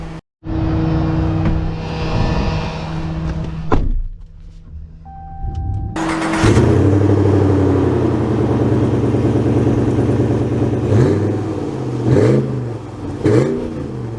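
A 2024 Ram 1500 Black Widow lifted truck starts and pulls away, with a whirring mechanical sound early on, then a steady engine drone under gentle acceleration, heard from inside the cab, no speech.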